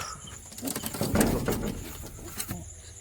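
Shakdom pigeons, a breed raced in Kolkata competitions, coo in soft, low repeated notes over a steady background hiss, with a louder burst of activity near the middle.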